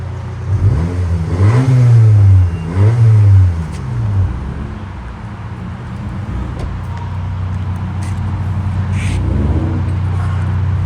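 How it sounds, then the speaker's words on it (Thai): A Honda Civic FK 1.5 Turbo's exhaust revs hard twice in quick succession, loud and close, then settles into a steady, lower idle drone. "อ่าไปฟังเสียงท่อกันเลยนะครับผม"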